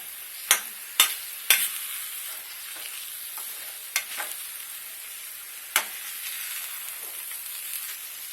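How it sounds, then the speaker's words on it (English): Rice rava upma being stirred in a pan, with a steady soft sizzle of frying throughout and a few sharp scraping clicks of the spoon against the pan near the start and again midway. "Mix it well, okay, so that it looks so crispy once it gets ready."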